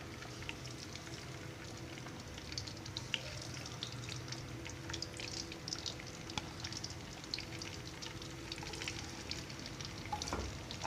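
Eggs frying in oil in a kadhai: a faint, steady sizzle with scattered small pops and crackles, running evenly without any talking.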